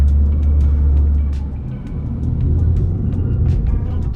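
A GMC off-road truck's engine roars at full throttle, loud and close, a deep rumbling drone that dips briefly midway then swells again.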